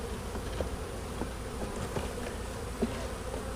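Honey bees in an opened hive give a soft, continuous buzz with a few brief louder passes close by, and no voices.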